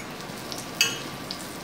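Chicken browning in hot oil in a pan gives a faint, steady sizzle with a soft crackle or two, quiet and close, with no voices.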